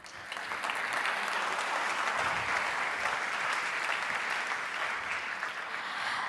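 Applause fills the hall at a food forum closing ceremony as a panel moderator is introduced, building quickly into a strong, steady sheet of clapping that holds to the end.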